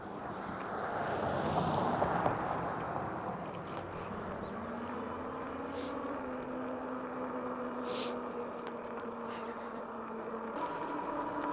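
An e-bike rides outdoors on a mild, roughly 70-degree day, with strong wind buffeting the microphone and a faint, steady motor whine running underneath.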